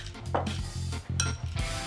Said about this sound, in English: Let's give it a toss and bring it all together.